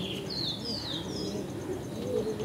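Pigeons of a Chennai Madrasi breed in a home loft give soft, low cooing calls under a faint background hum, along with a few high chirps from other birds nearby.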